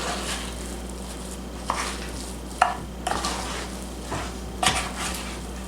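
Soft, steady bubbling and crackle of butter in a pan, with a few scraping stirs clinking against the pan.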